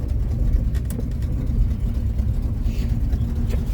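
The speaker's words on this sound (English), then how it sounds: "Growling, inner fender growling." A truck with manual steering backs up slowly while its inner fender growls against the tire, a low, throaty rumble steady under the idling engine with faint scrapes, close and fairly loud.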